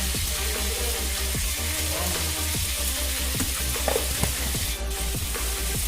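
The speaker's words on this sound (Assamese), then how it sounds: "মাংসখিনি চিমত দি ধুনীয়াকৈ এনেকৈ লৰাই আছোঁ ধুনীয়াকৈ" Meat sizzles and fries steadily in a hot pan while a utensil stirs it, with regular scraping strokes and occasional soft knocks close up, loud and continuous with no talking.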